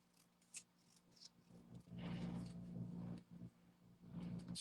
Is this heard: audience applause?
no